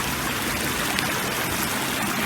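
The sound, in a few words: running water of a stream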